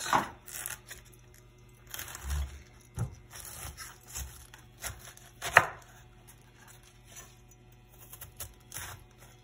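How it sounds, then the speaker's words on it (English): A knife chops through a cabbage on a cutting board, trimming the base, quartering it and cutting out the core, making an irregular series of crisp thuds and scrapes at close range. "I'm going to cut the bottom part of the cabbage off. And we're going to quarter it and cut the core out"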